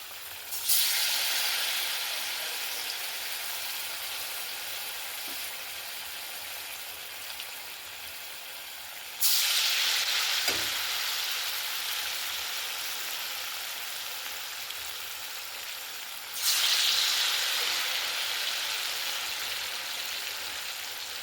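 Flour-coated bitter gourd and soybean pakoras fry in oil with a soft, continuous hiss. Each new batch dropped into the pan brings a sharp surge of sizzling that then slowly fades, and this happens three times. No one talks.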